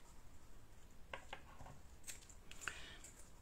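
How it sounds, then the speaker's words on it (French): Scissors snip off the excess ribbon on a gift-card wrapping, a few quick close cuts in a quiet room, with a second short burst of snipping a moment later. "on va prendre une paire de ciseaux pour couper l'excédent"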